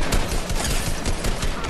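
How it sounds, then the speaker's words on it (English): A minigun firing nonstop in a squad match of a shooter video game gives a dense, unbroken buzz of rapid shots, loud and steady for the whole short burst with no pauses. "this man got a minigun?"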